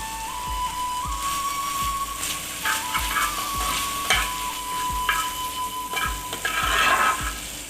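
Dried fish (shutki) fries in a pan with a loud, continuous crackling sizzle, punctuated by regular scraping stirs and a thin steady whistle-like tone, with no voices.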